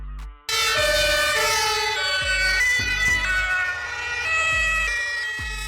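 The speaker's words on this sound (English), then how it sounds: "Fire ambulance." A fire ambulance's loud emergency siren sounds steadily over heavy rhythmic engine thumps, with tones stepping between pitches, near and continuous.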